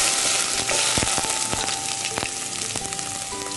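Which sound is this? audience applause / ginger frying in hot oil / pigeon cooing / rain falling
ginger frying in hot oil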